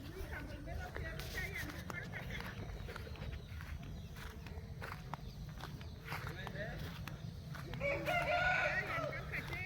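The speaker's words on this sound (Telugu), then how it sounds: "బ్రీడింగ్ కోసం మళ్ళీ ప్రత్యేకంగా ఎంచుకున్న కోళ్ళు ఇవి." Roosters and hens kept for breeding on a farm, with a crow rising near the end over scattered clucks, footsteps and someone talking through most of the clip.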